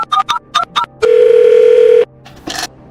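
A telephone dial tone from an old landline handset: a few short dialing beeps, then a steady, loud, unbroken tone lasting about a second before it cuts off.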